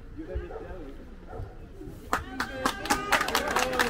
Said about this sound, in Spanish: Fuerte el aplauso al campeón acá